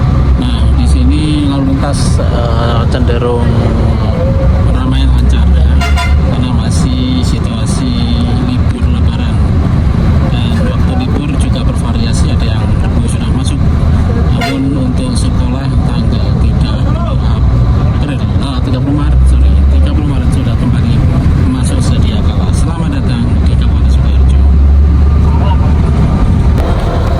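Busy road traffic rolls past a moving bus between Wonogiri and Sukoharjo during the post-Lebaran return rush, a steady loud engine drone and road rumble with passing vehicles, while someone talks over it.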